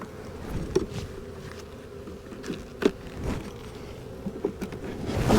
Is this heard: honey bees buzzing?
yes